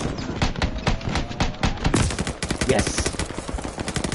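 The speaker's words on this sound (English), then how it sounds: "Open fire on that tree." Sustained rapid gunfire at a tree in the Call of Duty Vanguard video game, during the Battle of Bougainville: dense automatic bursts rattle on without pause, loud and close, with a brief spoken word in the mix.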